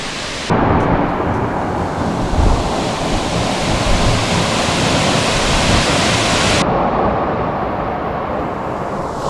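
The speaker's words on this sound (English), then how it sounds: "Just around this bend is where the giant waterfall is" A giant waterfall on the Three Pools to Avocat hike in Trinidad thunders steadily, a dense, loud, continuous roar of falling water close by that fills the whole clip with no break.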